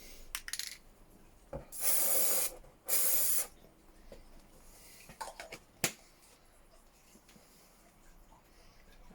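Two bursts of an etching primer spray can dusting primer onto Axial SCX10.3 RC axles, each lasting about a second, loud and hissing, with small taps and clicks between them in an otherwise quiet room.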